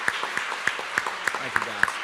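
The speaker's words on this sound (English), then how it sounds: "let's give these guys a big round of applause" Applause for JV baseball players at a school sports program gathering, a thin, sparse clapping with distinct separate claps at a fairly regular pace, as from a small group, with some voices murmuring underneath.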